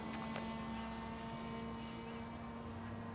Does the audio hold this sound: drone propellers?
yes